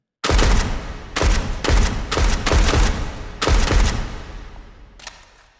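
Rapid burst of suppressed shotgun blasts from a magazine-fed shotgun pistol in the H3VR virtual reality game, five or six loud close booming shots in uneven succession, then a brief pause and one final thud.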